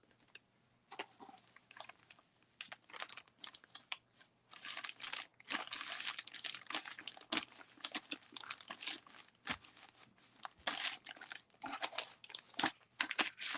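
Crinkly brown packaging paper is handled and pressed down while making a recipe book, giving dense, irregular crackling and rustling close up with no talk.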